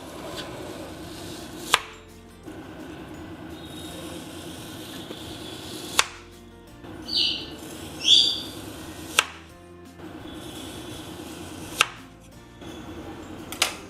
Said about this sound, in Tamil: இப்போ ஒரு நைஃப் வச்சுட்டு நம்ம இது ஸ்லைஸாக கட் பண்ணிக்கலாம்